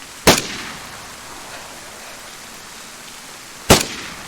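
Two sharp, loud gunshots in a first-person shooter game, about three and a half seconds apart, each a sudden crack with a short tail over a steady low background hiss.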